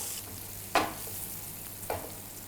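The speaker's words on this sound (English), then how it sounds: "I'm roasting them on high flame so they can get a really nice color" Vegetables, including potatoes, roasting in about a tablespoon of oil on a pan over high flame, a steady low sizzle broken by two sharp bursts of spatter and stirring.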